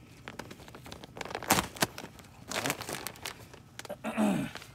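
A bag of lawn insecticide granules being cut open nearby, crinkling plastic and short tearing rustles in uneven bursts, fairly quiet.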